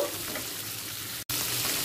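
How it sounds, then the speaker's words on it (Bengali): Onion and capsicum fry on a medium flame, giving a steady broadband sizzle that cuts out for a moment before resuming. "পেঁয়াজ আর ক্যাপসিকামটা 2 মিনিট মিডিয়াম ফ্লেমে"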